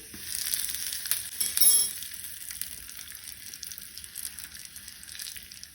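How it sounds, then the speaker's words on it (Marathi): Half a spoon of mustard seeds sizzling in hot oil for a Goan garlic-free solkadhi, a steady bright crackle with a brief louder burst of popping, close and alone. "तातूंत हांव अर्धो चमचो सासवां घालता।"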